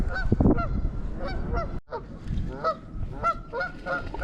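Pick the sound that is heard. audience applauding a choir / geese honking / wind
geese honking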